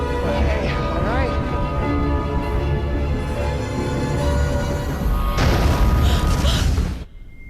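A bomb goes off in a film scene as a dense, roaring blast. Rumbling and debris noise run throughout, a fresh loud burst comes near the end, and then it cuts to quiet.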